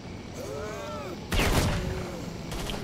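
Zombies fire guns in the video game S.T.A.L.K.E.R.: Shadow of Chernobyl, a sudden loud burst of gunfire followed by a second, weaker volley, after a voice is heard talking.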